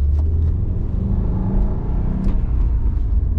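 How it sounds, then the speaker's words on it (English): A manual-transmission car engine rumbles low and steady, revving up as the clutch is let out in first gear, loud and close throughout with no talk. "Clutch in, first gear, let the clutch out, foot on the gas."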